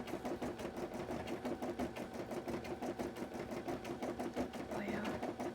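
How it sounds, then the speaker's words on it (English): A sewing machine used for cosplay crafting runs steadily and fast at close range, its rapid mechanical stitching rhythm continuous throughout with a faint high whine drifting in near the end. "there's gonna be a lot of sewing machine noise"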